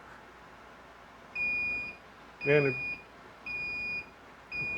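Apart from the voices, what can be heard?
heat press timer beeping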